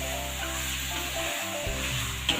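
Beef kikil stirred into hot, fragrant spices for gulai, a steady close sizzle and scraping stir that runs unbroken for a couple of seconds, briefly dipping before resuming.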